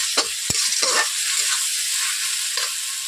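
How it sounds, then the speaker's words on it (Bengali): A pan of tomatoes frying in oil is stirred for a Bengali pabda fish curry, with a steady sizzle and a few sharp spatula scrapes and knocks against the pan, close and alone. "টমেটোগুলো গলে যাওয়ার জন্য এরকম করে মিশিয়ে দিচ্ছি যাতে গলে যায় তাড়াতাড়ি"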